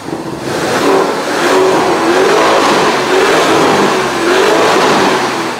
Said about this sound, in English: I'm going to start the Urus for the first time.